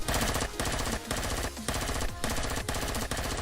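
Rapid turret gunfire in the survival game Empyrion: Galactic Survival, loud and close, firing in sustained automatic bursts separated by brief pauses.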